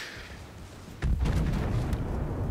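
Warship secondary guns firing in World of Warships, a German cruiser Nürnberg's battery letting off a sudden loud burst of booming shots over a steady low battle rumble.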